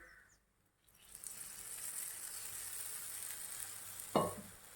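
Batter for a chilla frying in a little oil in a pan over low gas, a steady soft sizzle that rises after a brief quiet start, with a louder crackle near the end.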